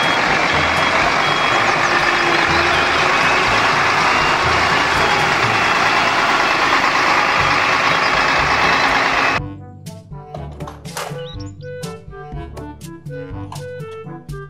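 A cement mixer truck runs loudly with a steady engine roar, then cuts to rapid repeated beeping and clanking with lighter mechanical noise.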